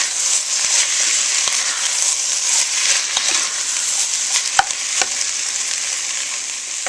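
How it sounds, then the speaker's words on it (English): Peppers and onions sauté in a pan with a steady, close, bright sizzle, broken by occasional sharp clicks of stirring, with no voices. "Then I'm going to add my peppers and onions. I'm just going to saute that until they're soft."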